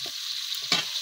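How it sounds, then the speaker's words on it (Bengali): Potatoes and onions fry in a pan with an even sizzle while a spatula stirs them, one sharper scrape near the end. "আমি আর একটু ভেজে নেবো।"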